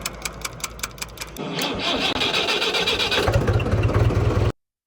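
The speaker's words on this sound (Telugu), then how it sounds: "ట్రాక్టర్ చూడండి ఇప్పుడు ఎలా స్టార్ట్ అవుతుంది" A diesel tractor engine cranks with a rapid rhythmic chugging, then catches and runs, settling into a loud, steady, throbbing idle before cutting off abruptly.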